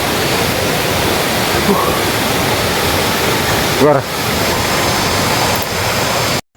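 Steady, loud broadband rush of a river tumbling over large boulders beside a forest campsite, filling the whole clip with continuous water noise; a voice briefly speaks partway through.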